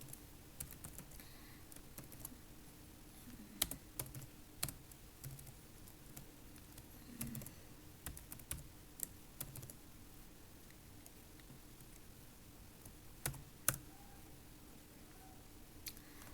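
Python code being typed on a computer keyboard, faint scattered key clicks in irregular bursts with occasional louder taps, no talking.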